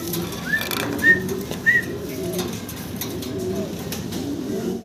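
Large fancy pigeons coo in a pair, giving several short soft rising calls over steady background hum and faint ambient noise.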